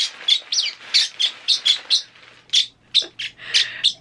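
A pet parrotlet chirps angrily in a rapid series of about a dozen sharp, shrill bursts, close and loud, with brief pauses between short clusters.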